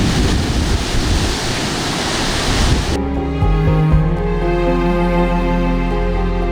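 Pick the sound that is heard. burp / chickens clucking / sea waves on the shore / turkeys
sea waves on the shore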